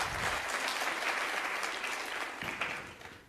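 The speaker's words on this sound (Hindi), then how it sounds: "इस बात पे तो तालियां भी जानी चाहिए" Audience applause at a social media convention in Jodhpur, a dense, steady wash of many hands clapping at moderate level, easing slightly toward the end with no talk over it.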